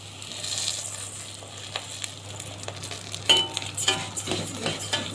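Vermicelli and rice frying in a pot while being stirred, a soft steady sizzle with spoon scrapes and clinks against the pot growing busier toward the end, no talking.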